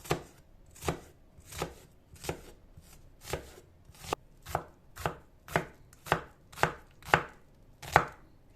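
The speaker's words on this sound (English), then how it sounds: "To easily chop an onion, you make cuts that don't go all the way to the root end, rotate the onion, and make cuts the other way around." Knife chopping an onion on a cutting board, about fourteen steady, evenly spaced thuds, close and clear with no talk.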